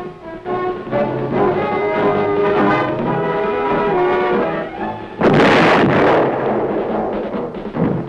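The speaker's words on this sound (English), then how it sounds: "This is the 175mm self-propelled gun. one of the largest caliber pieces in combat use today." A 175mm self-propelled gun is evaluated at the Aberdeen proving ground, with a sustained low rumble giving way to one sudden, loud, broad blast near the end that lingers and rolls away.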